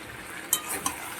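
Chicken with spices and green chilli paste being stirred and sautéed in a pan, with a low steady sizzle and a few sharp clinks of a spoon against the pan.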